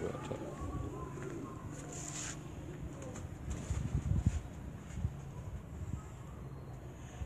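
Pigeons coo softly and repeatedly on a rooftop in Dhok Banaras, Rawalpindi Cantt, amid a busy background of rustling and murmuring voices.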